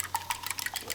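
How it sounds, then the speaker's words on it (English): A whisk beating in a bowl, fast, light rhythmic clinks and scrapes close by over about a second, with no talking. "Whisk this up."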